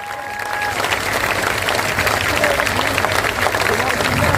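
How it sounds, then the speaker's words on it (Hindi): Large crowd applauding loudly at the launch of Prashant Kishor's Jan Suraaj party, a dense, continuous roar of clapping that builds and holds steady, with voices mixed in. "जोर से ताली बजाइए।"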